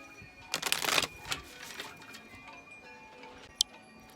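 Playing cards riffled and shuffled by hand at a table, a dense burst of quick crisp flutters for about half a second followed by softer fiddly handling, then a single sharp tick near the end, fairly faint.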